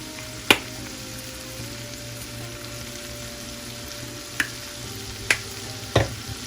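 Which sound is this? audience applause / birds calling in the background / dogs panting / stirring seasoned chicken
stirring seasoned chicken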